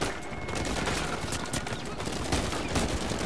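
Continuous gunfire in the video game Uncharted 4: A Thief's End, with a prison escape setting: dense overlapping shots and bursts, loud and close, running steadily without a break.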